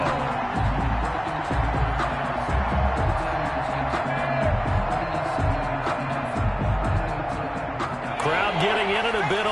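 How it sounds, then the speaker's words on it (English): Crowd noise in an American football video game on PS4, a continuous crowd roar and murmur throughout with light thumps, under a steady commentator's voice. "Crowd getting in it a bit already."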